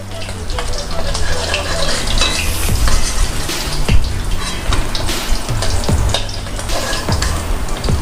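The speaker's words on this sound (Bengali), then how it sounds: "মাছগুলো খুব ভালো মতো দুপাশি ভাজা হয়ে গেছে" Bata fish frying in oil in a pan, a loud, steady, close sizzle with crackling pops, heard under a voice talking.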